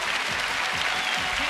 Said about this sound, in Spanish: un aplauso también para todos